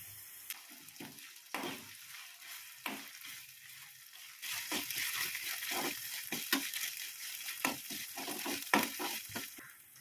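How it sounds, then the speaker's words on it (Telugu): Ginger garlic paste frying in a pan with onion and green chili for a methi tomato curry, a steady sizzle broken by repeated spatula scrapes and stirring knocks that grow busier and louder partway through. "అలా ఉల్లిపాయ పచ్చిమిర్చి వేగిన తర్వాత అల్లం వెల్లుల్లి పేస్ట్ వేసుకోవాలి"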